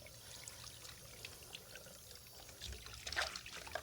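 Tap water pours and trickles while an emesis basin is rinsed, a faint, steady splashing flow that grows slightly louder and busier toward the end.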